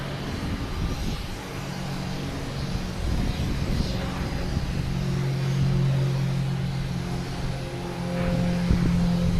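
A Cape Air commuter plane taxis or departs at Boston Logan Airport, its steady engine drone rumbling low and continuous throughout, swelling slightly toward the end, with a faint hum of other traffic underneath.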